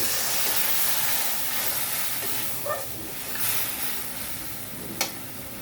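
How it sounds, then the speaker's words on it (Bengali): Spice paste sizzles steadily in hot oil in a pan while a tilapia curry is cooked, a continuous close frying hiss with a couple of soft stirring clinks and one brief sharp tap. "মশলাগুলো হালকা লাল লাল হয়ে গেছে এখন পেস্টটা দিয়ে দিব"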